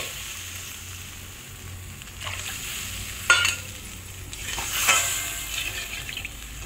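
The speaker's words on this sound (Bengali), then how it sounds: "কষাতে কষাতে মশলা থেকে তেল ছেড়ে দিয়েছে।" Spice paste for a Bengali snakehead fish curry fries in oil, a low continuous sizzle broken by a few louder spatters and stirring scrapes, with no talk.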